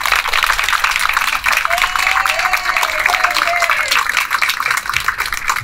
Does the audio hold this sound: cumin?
no